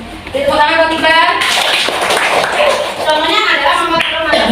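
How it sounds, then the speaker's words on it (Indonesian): A classroom of children claps for a classmate named Iqbal during a teaching practice lesson; a burst of close, lively clapping mixed with kids' voices and chatter over it. "Tepuk tangan buat Iqbal."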